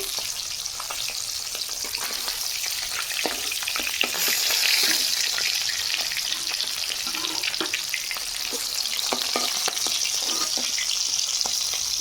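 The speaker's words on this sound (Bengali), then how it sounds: "এইভাবে বাকি মাছগুলো ভেজে নেব" Fish frying in hot oil in a pan gives a steady, loud sizzle with crackling pops throughout, briefly swelling midway, with no voices.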